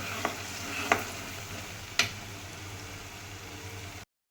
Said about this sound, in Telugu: ఇంకా ఇప్పుడు ఈ 3 మిక్స్ చేసేసుకుందాం.